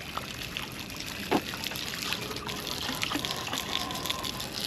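Water runs from a pump hose in a continuous, faint splashy trickle, with a soft hiss of air and a single brief knock partway through.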